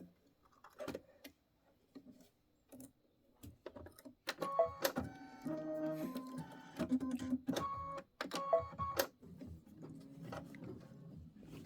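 An embroidery sewing machine stitching a quilt block gives off faint ticking at first, then a busy stretch of rapid mechanical rattling and whirring with irregular stops and starts, close by and moderately quiet.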